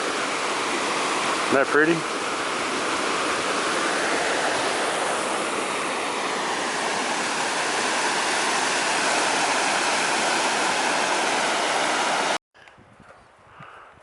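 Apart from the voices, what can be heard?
mountain stream flowing near McDonald Glacier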